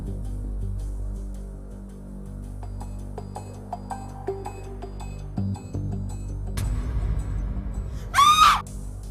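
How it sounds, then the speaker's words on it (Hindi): A sudden high, rising scream cuts through near the end, following quieter scattered household sounds in a room in a Pakistani drama episode. "चीख की आवाज आई थी कमरे से"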